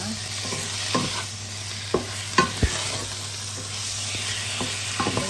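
Chicken pieces sautéing in a pan with onion and garlic for tinola, a constant close sizzle with a few sharp clacks and scrapes of a spatula stirring, no voices.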